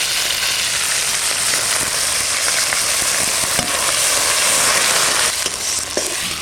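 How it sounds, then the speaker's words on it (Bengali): Onion and tomato fry in a hot pan with a loud, steady crackling sizzle and occasional clicks from stirring, with no talk over it. "পেঁয়াজ টমেটো ভাজা হয়ে গেছে"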